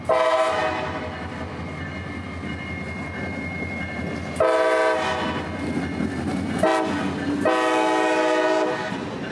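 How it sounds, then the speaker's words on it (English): A loud EMD diesel horn on an SD40-3 locomotive blows in several long blasts with short breaks between, over the rumble of a passing freight train at night. "The cheerful sound of its EMD horn brings back memories of 2020 and 2021"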